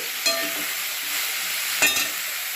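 Mixed vegetables stir-fry in a pan with a constant loud sizzle, broken by two sharp spatula stirs, with no voices.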